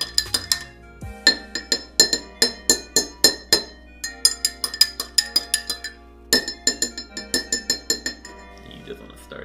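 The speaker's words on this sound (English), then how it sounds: "You just want to stir that till that dissolves." A spoon stirs a toddy cocktail in a glass, giving rapid rhythmic clinks in bursts, bright and close, with a short pause midway and no speech over it.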